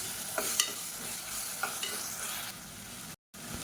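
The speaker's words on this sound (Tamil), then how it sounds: "இப்போ இஞ்சி பூண்டு பேஸ்ட்டு வதங்கிட்டு இருக்கு" Ginger garlic paste sautés in hot oil, a steady close sizzle broken by several spatula stirs and scrapes, with a brief cut to silence near the end and no voices.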